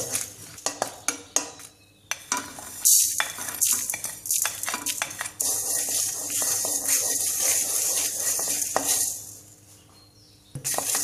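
Dry red chilies and whole coriander seeds roast in a pan, with rapid metal spatula scrapes and clinks against the pan over a steady dry sizzle, close and busy.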